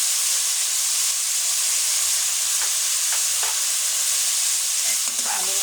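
Meat frying in hot oil with ginger-garlic and cumin paste makes a loud, dense, continuous sizzling hiss up close, with a few faint stirring scrapes near the end and no speech.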